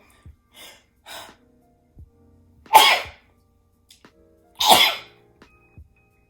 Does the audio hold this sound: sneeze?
yes